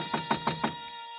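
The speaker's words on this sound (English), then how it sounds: "so I got over to the door and knocked." Four evenly spaced knocks on a door in an old radio drama, crisp and close, with a faint steady tone underneath and no talk.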